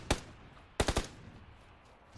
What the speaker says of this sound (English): Are you shooting at somebody, Kenny?